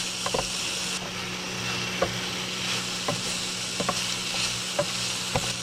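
Pork taco meat sizzling steadily in a pan in an RV kitchen, with periodic scraping stirs every second or so over the continuous frying hiss.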